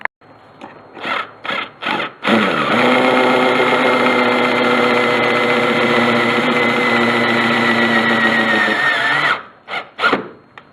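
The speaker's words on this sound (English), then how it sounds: "I'm going to screw it in with a self-tapping screw here" A power drill drives a self-tapping screw beside the strut tower of a 2000 Honda Accord SDX; several short bursts come first, then one long, loud, steady whine that rises slightly before stopping, close.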